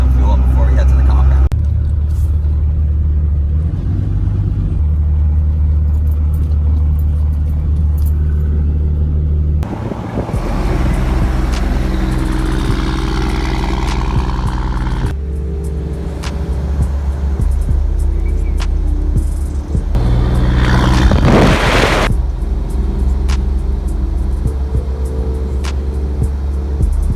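A 1999 Ram 2500 with a Cummins diesel and big turbo, second generation, drives along with a deep, steady engine rumble and road noise, the pitch shifting as it accelerates and changes gear.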